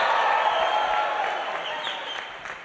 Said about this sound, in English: We are known for being the loudest, most supportive crowd ever.